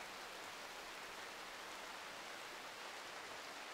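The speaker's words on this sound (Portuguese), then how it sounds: "Uma hora da manhã, chovendo." Night rain falls in the video game Rimworld as a faint, even hiss that holds steady without a break and has no talk over it.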